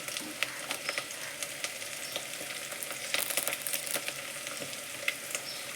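Curry leaves sizzling in hot oil for an aloo kurma, a steady crackling fry with small sharp pops scattered throughout and a brief louder burst midway, fairly close and moderately quiet with no talking.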